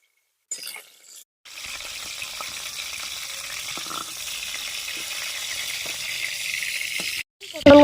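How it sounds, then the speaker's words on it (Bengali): Pieces of pointed gourd fry in hot oil with a steady, moderate sizzle that is near and continuous, broken by a short gap near the start and some brief handling noises at the end. "দেখুন পটলগুলো এবার ভালোভাবে ভাজা হয়ে গেছে"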